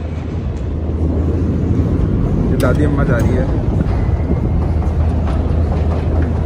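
Metro train rumbling through a deep underground tunnel, a loud continuous low roar with a steady hum, with a person speaking over it.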